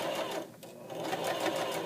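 A sewing machine stitches a pant pocket with a fast, even mechanical whir. The sound is close and moderately quiet, with no pauses over a couple of seconds.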